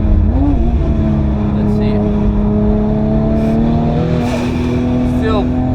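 A 1000hp 9ff Porsche Turbo accelerating hard with wheel spin on the Nürburgring, its engine loud and close as the pitch climbs through gear changes, with a person talking briefly over it.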